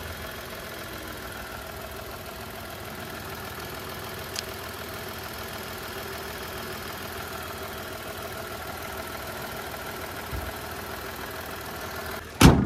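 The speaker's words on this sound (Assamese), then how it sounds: "এইটো চাওক পেট্ৰল ইঞ্জিন হয়, একদম নৰ্মেল চাউণ্ড।" A Nissan Magnite petrol engine idles with a smooth, even hum heard from close by, joined by a brief tick partway through and a sharp knock or clunk right at the end.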